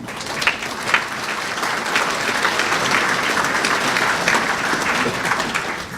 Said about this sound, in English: I want us to again applaud the CCM, our Team Unity partner, for a resounding victory